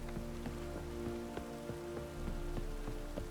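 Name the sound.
rain in The Witcher 3 video game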